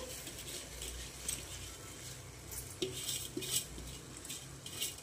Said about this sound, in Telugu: ఇప్పుడు రైస్ వేసుకుంటున్నాను